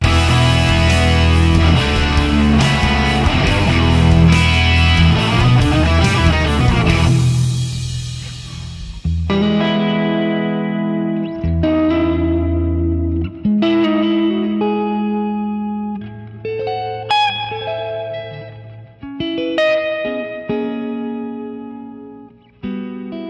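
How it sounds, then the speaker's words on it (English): Electric guitar through an original Rev Dynamis 40-watt amp, a dense driven riff that breaks into punchy, choppy chords and single-note stabs with ringing sustain, loud and close throughout with no voices. "So one of my personal favorite amps is the Dynamis by Rev"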